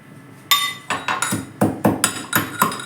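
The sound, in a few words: pounding pepper, cloves and cinnamon with turmeric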